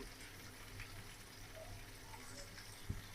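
Fish fries with onion, green chili and garlic in a pan, a soft continuous sizzle close by, low in level, with one brief knock near the end.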